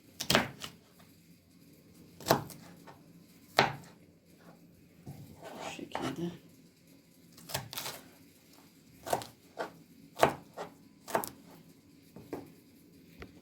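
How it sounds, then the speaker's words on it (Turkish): Sharp knife taps strike a cutting board at uneven intervals as food is cut into cubes, some taps in quick pairs, close and fairly loud against a quiet background. "Hepsini güzelce küp küp şeklinde tepsiye hepsini güzelce doğradım"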